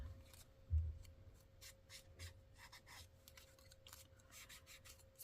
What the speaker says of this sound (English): Before I cut it out, I want to distress it